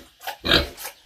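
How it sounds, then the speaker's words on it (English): A pig gives a few short grunting oinks, close and fairly loud, in about a second with brief gaps between them. "Pig,"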